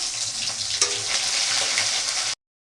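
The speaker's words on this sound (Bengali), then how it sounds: "ওই তেলের উপরে গোটা গরম মশলা দারচিনি লবঙ্গ এলাচ দিয়ে দিলাম" Whole spices (cinnamon, cloves, cardamom) sizzle in hot oil with a constant close-up hiss and a brief sharp spatter near the start, ending abruptly.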